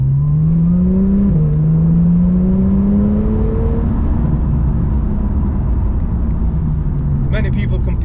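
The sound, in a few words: Porsche 911 Turbo 991.1 engine accelerating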